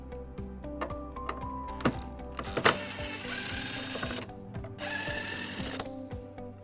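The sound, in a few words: removing Toyota Sienna tail light bolts with 10mm socket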